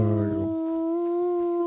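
A dog in Kingdom Come: Deliverance II lets out a single drawn-out, high whining whimper lasting over a second, close and clear, with a faint low murmur at its start.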